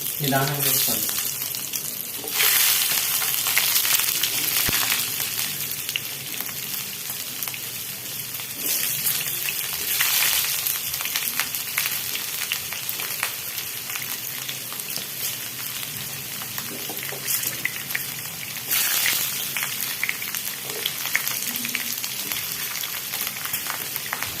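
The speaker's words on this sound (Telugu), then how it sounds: "కొద్దిగా వరకు వేయించాలండి" Drumstick chutney ingredients fry steadily in hot oil in a pan, making a continuous loud sizzle with occasional stirring scrapes and swells of spatter, and no talk.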